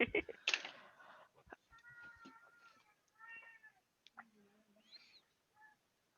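A talkative pet cat meows several times in a short series of varied calls, some drawn out and pitched, heard faintly in a quiet room behind an online meeting.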